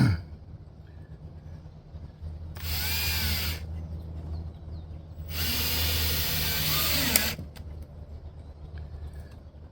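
Power drill driving screws into a wooden planter box, two loud whirring bursts of about one and three seconds against a steady low background hum.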